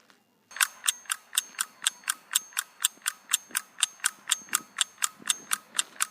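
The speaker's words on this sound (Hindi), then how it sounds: "अब मैं घड़ी को ऑन करता हूँ।" Quiz timer clock ticking in a steady, even rhythm, about three ticks per second, loud and close, starting after a brief quiet moment and continuing alone with no talk.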